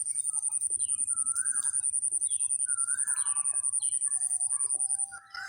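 Chinese geese and ducks kept at home give several short honking calls, close and clear, over a steady high-pitched electronic whine that cuts out near the end.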